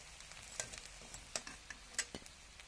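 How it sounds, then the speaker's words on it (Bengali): Potato rolls fry in hot oil until deep red, giving a quiet steady sizzle broken by scattered pops and crackles, with no voices. "পুরো লাল করে ভেজে নিচ্ছি"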